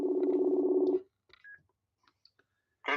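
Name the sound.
telephone dialing tones while calling someone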